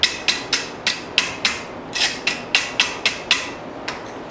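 Hammer blows on a hot forge weld for a tomahawk, about fifteen sharp metallic strikes in a steady, even rhythm, close and loud with ringing decay between hits.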